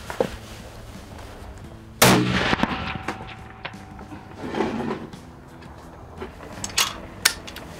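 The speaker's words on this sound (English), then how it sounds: "it's gonna be the first shot, 430 yards with the barrel taped" A rifle fired at a target 430 yards away with its barrel taped, one sharp loud report followed by a long echoing rumble rolling across open ground, then a few quieter clicks and knocks.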